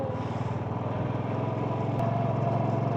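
A Royal Enfield motorcycle engine thumps steadily while riding through a village, a close, continuous low drone with a fast pulsing beat and no break for the whole stretch.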